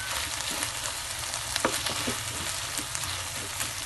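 Tuna sisig stirred in a pan gives a steady broadband sizzle, with a few sharp utensil clinks and scrapes in the middle, close and moderately loud, without talk.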